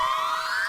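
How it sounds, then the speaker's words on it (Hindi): A police car's siren in an Indian TV comedy, a brief, loud, close wailing tone that sweeps steadily upward in pitch, heard alone. "लेकिन ये पुलिस की गाड़ी"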